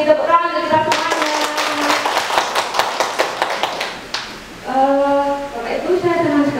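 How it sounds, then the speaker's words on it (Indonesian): A school audience gives a short burst of rhythmic applause with many sharp claps, bracketed by a speaker's amplified voice before and after. "Tepuk tangan untuk kita semuanya."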